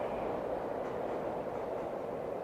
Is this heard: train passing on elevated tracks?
yes